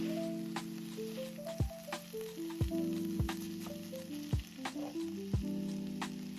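Beef and melting cheese sizzle steadily in a single frying pan for a Philly cheesesteak, a close continuous frying hiss with occasional light stirring taps and no talk.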